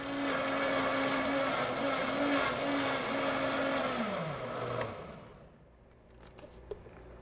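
A blender grinds kale for a smoothie with a loud, steady motor whir that holds for about four seconds, then winds down and stops, leaving a few faint clicks and no talk.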